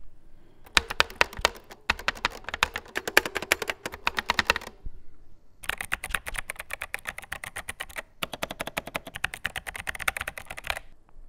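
Bursts of rapid typing on a 1980s Nintendo Famicom keyboard, crisp plastic key clicks in quick irregular runs, close to the microphone, separated by brief pauses and with no talking.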